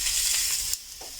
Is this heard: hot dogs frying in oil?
yes